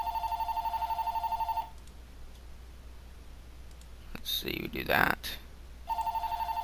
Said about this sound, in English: that's my phone ringing again.